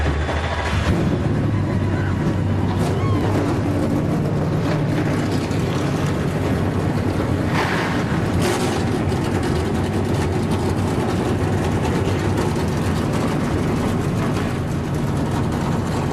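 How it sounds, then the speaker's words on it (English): Race truck engines at the American Ethanol 200 roaring to life and idling, a dense, steady, loud wall of engine rumble with no break across the whole stretch. "The engines have come to life as we get closer to the start of this one"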